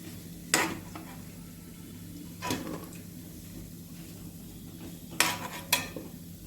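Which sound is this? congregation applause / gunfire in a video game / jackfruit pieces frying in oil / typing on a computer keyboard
jackfruit pieces frying in oil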